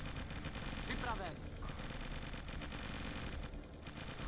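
Rapid automatic gunfire in the strategy game Original War, a stuttering burst of shots aimed at a tank, heard up close amid busy game effects, with someone talking over it.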